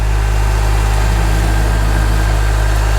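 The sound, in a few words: Farmall Super M tractor engine skidding heavy oak logs uphill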